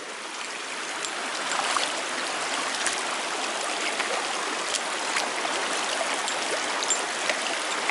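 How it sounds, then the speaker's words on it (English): A shallow stream flows past at a ford in Hodders Combe, a steady close rushing and babbling of water, continuous and moderately loud with small splashes, no voices. "We're right in the middle of the stream."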